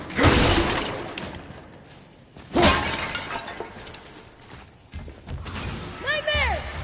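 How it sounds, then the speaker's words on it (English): Objects shattering in the God of War game on PS4 Pro: loud crashing bursts of breaking and debris, followed by mechanical creaks and a whooshing effect, with a voice talking over parts of it. "Never get tired of shattering things with this."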